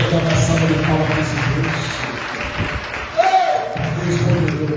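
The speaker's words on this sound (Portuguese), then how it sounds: "Vamos dar uma salva de palmas" A church congregation claps steadily with dense, continuous applause, along with some voices and a short bright tone partway through.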